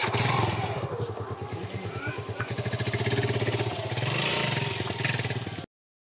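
A motorcycle engine runs close by with a steady, rapid pulsing throb that rises slightly midway and holds until the sound cuts off abruptly near the end.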